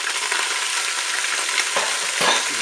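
Onions tossed into a Cookeo multicooker browning chicken thighs hiss with a loud, dense sizzle, broken by two quick scraping stirs near the end.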